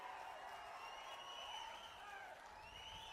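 A large crowd at an outdoor political meeting applauds in a steady, distant roar of clapping that holds at an even, fairly faint level throughout.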